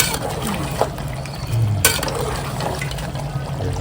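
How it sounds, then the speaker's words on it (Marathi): Hot water pours steadily into a pot of cooking mutton with a broad, rushing wash and some sloshing, close by, with faint kitchen clatter. "असे अजून पाणी टाकतोय"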